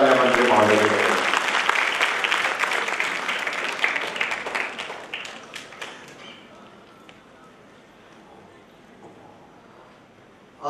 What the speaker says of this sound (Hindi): जोरदार तालियां मंत्री महोदय के लिए।